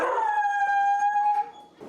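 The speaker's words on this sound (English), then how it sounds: "I have no idea what I was saying before my dog started barking." A dog gives a sustained, howling bark at a rural homestead with goat and chicken sheds, a single drawn-out tonal cry close to the microphone that fades near the end.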